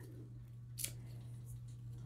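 Large, very sharp fabric scissors with 11-inch blades make a single quick crisp snip, faint and close, over a low steady electrical hum.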